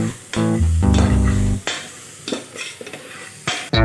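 A spoon or spatula stirs two packets of Maggi masala into vegetable pasta in a hot pan, with close scraping and sizzling. A few sustained tonal scrapes come early, then looser clinks and shuffles follow.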